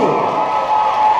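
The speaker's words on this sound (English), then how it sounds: "Give them a big round of applause" A keynote crowd cheers and shouts loudly at close range, with a sustained roar of voices over scattered applause.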